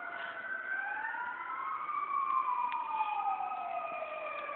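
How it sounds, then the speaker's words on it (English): Fire engine and police car sirens wail outside, several tones sweeping up and down and overlapping at moderate distance, continuous throughout with no talk over them. "Do you hear the sirens?"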